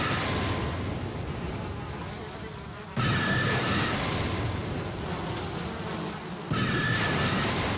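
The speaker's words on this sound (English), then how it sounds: "my God will send swarms of flies upon you and your people!" A dense swarm of flies buzzes continuously in a biblical plague scene, loud and close with a steady droning hum that swells in waves, no talking over it.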